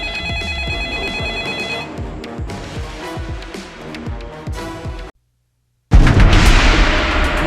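A telephone rings in a home setting: a loud, bright repeating electronic ring tone cycles for about five seconds, then cuts to silence before a burst of loud noise returns.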